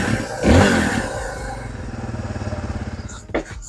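A 1996 Suzuki DR350 motorcycle engine revs up loudly close by, then settles into a steady, pulsing single-cylinder idle, with a brief clatter near the end.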